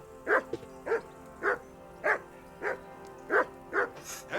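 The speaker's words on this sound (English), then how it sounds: "Call off that damn dog before he wolfs down the last of our meat." A dog in Kingdom Come: Deliverance II barks over and over in a steady rhythm, about one bark every half second. The barking is moderately loud over a soft ambient game background.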